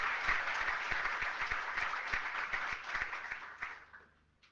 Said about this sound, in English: please give a round of applause for David Nolen